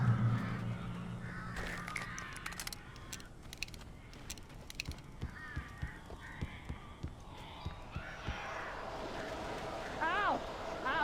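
Crows cawing in the video game Alan Wake, harsh bird calls mixed with clicking mechanical creaks and ratcheting sounds at moderate volume, with a voice speaking partway through.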